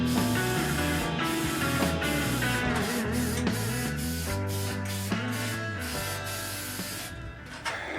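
An aerosol can of paint stripper, held upside down, sprays in a continuous loud hiss. Brief pauses and sputters break the stream over the span.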